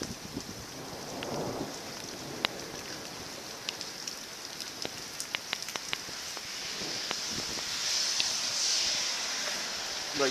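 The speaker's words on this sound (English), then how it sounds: "Just a passing thunderstorm, it seems like." Steady rain from a passing thunderstorm, heard outdoors from under a drive-through bank ATM shelter, a constant soft hiss with scattered close drips and taps, fairly faint, with wind rising toward the end.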